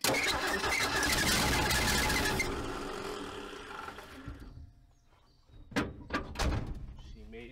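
Cranking of a 1979 Ford F100 pickup's 300 inline-six that has sat for 23 years, after a stretch of loud broadband noise, with short bursts of starter effort near the end.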